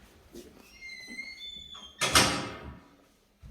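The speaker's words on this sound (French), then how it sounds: "C'est la porte d'entrée qui est battue comme ça?" A front door bangs shut in a French stage play, one loud slam with a short rumbling tail, following a few seconds of quiet room sound with faint thin tones.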